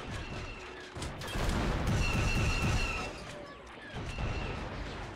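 Bursts of gunfire from turret guns in a Star Wars game mod set during a planetary invasion of Alderaan, with heavy booming volleys that swell in the middle and return near the end, dense and loud.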